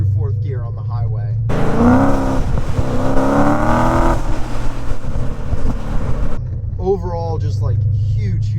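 A BMW E39 M5 fitted with a Supersprint exhaust accelerates hard, a loud rising engine roar from close behind the car lasting several seconds, with quieter cabin drone and brief talk before and after.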